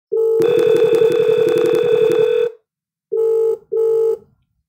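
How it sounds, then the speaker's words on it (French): An IP phone on an Asterisk system running Debian 10 rings for an incoming call. A long electronic warble is followed by two short tonal bursts, all loud, clear and close. "si je viens sur le téléphone de Rama, on me dit que Sidi appelle"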